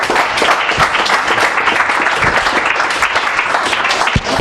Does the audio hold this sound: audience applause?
yes